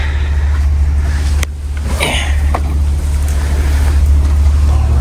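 A massive Tiffin Zephyr RV motorhome, about 25 years old, rumbles steadily as it pulls away after its air brakes release, a loud, constant low drone with faint rattles and shakes from inside the cab.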